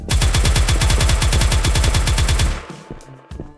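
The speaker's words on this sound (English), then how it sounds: "I appreciated the weird wonky wobble coming from the turret" A wobbling turret in the video game Tower Inc fires a loud, rapid automatic burst for about two and a half seconds. The burst cuts off into a few faint clicks and a warbling tail.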